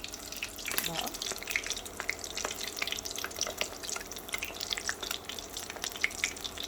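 Potato chips frying in hot oil, a soft continuous bubbling crackle with scattered pops, moderately quiet and even throughout.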